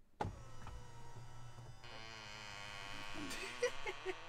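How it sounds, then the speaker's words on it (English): A Tesla Model 3 power seat adjusting its lumbar and position, a motor whirring and buzzing with a sharp start, a steady hum, then a few small squeaks and creaks near the end, quiet and close. "I've got a right squeaky chair"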